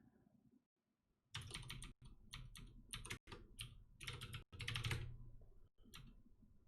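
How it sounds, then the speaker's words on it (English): Rapid bursts of keystrokes on a computer keyboard, clattering in quick runs separated by brief pauses, close by and with no voice over them. "I'm typing that in wrong"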